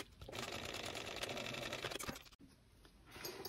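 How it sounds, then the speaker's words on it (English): A sewing machine stitches through a short edge of cork fabric, running in one steady fast whirring burst for about two seconds before stopping abruptly and leaving a quieter mechanical hum, close up and without talking. "we're going to sew through this short edge with 3/8 of an inch seam allowance"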